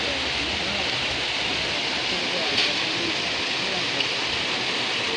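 Rain falls at a bus stop in the Konkan region, a loud, steady broadband roar of downpour that holds evenly throughout with no pauses.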